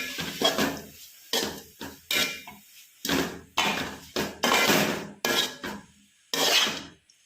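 Spinach greens stirred with turmeric in a pan for a thoran come through as bursts of loud clattering scrapes and knocks of a utensil against metal, separated by short silences, with no talking.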